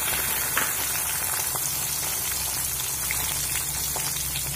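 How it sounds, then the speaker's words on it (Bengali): Garlic frying on medium flame in the same hot oil just used to fry red chillies, a steady close crackling sizzle running the whole time, with no talk. "এবার এই একই তেলের মধ্যে দিয়ে দেব রসুন"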